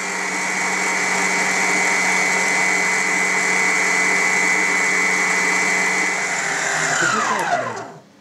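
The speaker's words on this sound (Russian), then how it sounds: "взбивалось, друзья, 15 минут наше безе" An electric mixer whipping meringue for a Pavlova cake, a loud steady whine running close and unbroken for about seven seconds, then spinning down and stopping.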